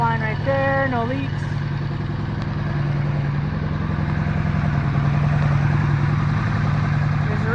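Honda V4 engine firing up after a camshaft oil line installation: a brief rising whine and clatter at startup, then a steady close idle with a strong low throb and mechanical chatter.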